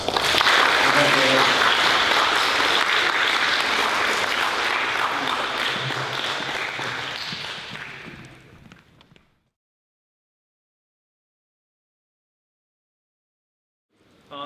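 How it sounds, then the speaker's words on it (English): An audience at a 5th grade recognition day applauds a group of fifth grade students, loud sustained clapping that fades out around eight seconds, followed by silence and a brief sound at the very end. "This group of students deserves a round of applause."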